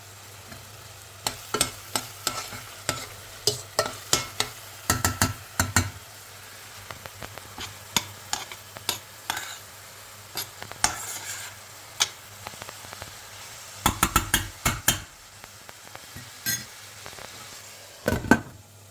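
Onion frying in a pan, with a quiet background sizzle broken by bursts of scraping and stirring clatter that come in irregular clusters, close and fairly loud.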